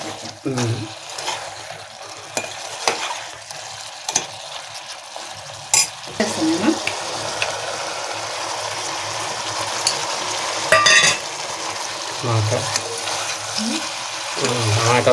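Turmeric being stirred into a cooking bottle gourd mixture for sorakaya pulka, with soft scraping and a low sizzle in the pan, interrupted by a few sharp utensil knocks; a voice speaks briefly at times.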